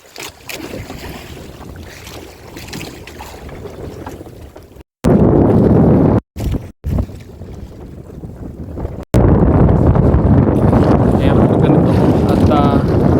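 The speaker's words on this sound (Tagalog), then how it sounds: "Saka hangin, ano? Sobrang hangin, ano?" Strong wind batters the microphone on a small boat crossing rough sea waves, a constant blustery roar that cuts out in brief gaps and returns even louder, with people talking faintly underneath.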